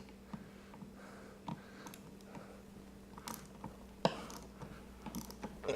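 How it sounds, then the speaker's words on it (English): A 1/4 inch ratchet clicks in short bursts while driving a screw into a cramped bracket for an extension cord reel, close and fairly faint, with uneven pauses and small knocks between turns. "So I'm using a 1/4 inch ratchet."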